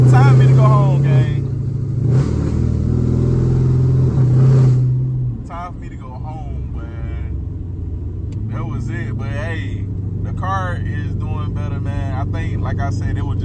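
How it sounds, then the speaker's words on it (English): A stage 3 cammed Dodge Charger SRT8 revs hard toward redline with a loud, steady droning roar for several seconds before it drops off, then someone talks over a low engine rumble. "it was just me redlining. I was getting my RPMs up too high"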